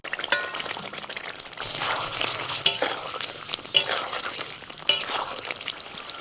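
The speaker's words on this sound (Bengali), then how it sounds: "মশলা ভালো করে কষানো হয়ে গেছে, ভাজা এঁচোড় দিয়ে দিচ্ছি।" Fried young jackfruit is stirred into a spice masala in a pan, with steady sizzling and repeated spoon scrapes. Three sharper clinks of utensil on pan stand out, and faint talk sits in the background.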